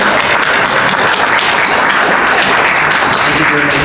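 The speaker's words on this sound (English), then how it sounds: "So give yourselves a round of applause for being here." Audience applause at a candidate forum hosted at the University of Tennessee Health Science Center: dense, steady clapping from a crowd, loud and continuous for the whole stretch, with murmured voices mixed in.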